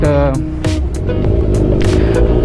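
A Kawasaki Ninja 1000 motorcycle engine, limited edition silver bike, rumbles close by with low throbbing idle and brief rises in pitch, while someone talks over it.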